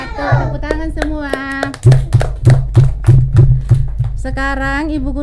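Children clap together in a quick rhythmic series of hand claps during a kindergarten radio show, close and lively, with an adult voice speaking before and after the clapping.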